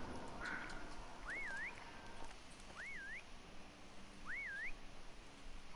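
Three rising-and-falling human whistles, evenly spaced and moderately distant, carry over a steady outdoor hiss, with a short faint whistle just before them.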